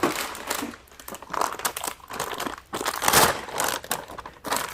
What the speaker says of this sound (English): I'm going to take it out of the bag.